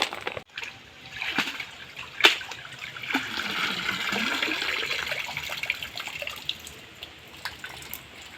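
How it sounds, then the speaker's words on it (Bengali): Cut spinach being rinsed in water at a bathing ghat gives close splashing and sloshing with a few sharp drips. The water churns steadily throughout, and no voices are heard. "এই যে পালং শাকগুলো আমার কাটা হয়ে গেছে এবারে এগুলোকে আমি ঘাটে পরিষ্কার করে ধুয়ে নিয়ে আসবো"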